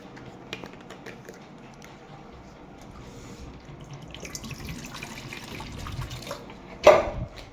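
Water runs from a tap in a home, a soft steady flow with clinks and small handling noises, rising briefly into a louder splash near the end.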